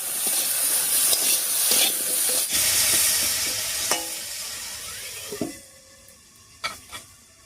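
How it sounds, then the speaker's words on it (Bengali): Potatoes fry with salt and turmeric in a pan, a loud continuous sizzle while being stirred, easing off near the end into a few scraping stirs and clinks. "এবারে আলুটাকে নিয়ে অবশ্যই একটুখানি ভাজা ভাজা মতো করে নেব।"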